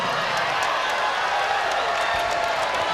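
A steady wash of crowd noise with clapping and scattered cheers fills an arena during a Rainbow Wahine versus St. John's volleyball match, sustained and fairly loud for the whole stretch.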